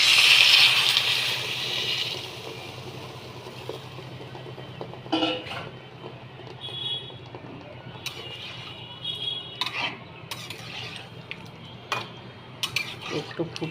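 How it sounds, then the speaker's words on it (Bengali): Water pours into a cooking pot of elephant foot yam curry with a loud, hissing rush at the start, followed by clinks and scrapes of a utensil against the pot. "জল দিয়ে দিলাম।"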